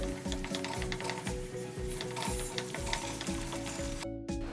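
Onion paste with ginger garlic paste frying in a pan for chole bhature, a continuous crackling sizzle broken by quick rhythmic scrapes and knocks of stirring, close and busy.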